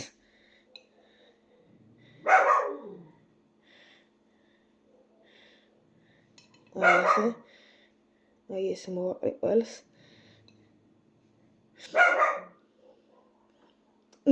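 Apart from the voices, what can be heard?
dog barking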